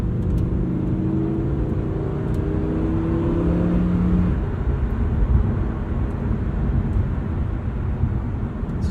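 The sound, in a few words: 2023 Lamborghini Huracan Tecnica driving casually in Strada mode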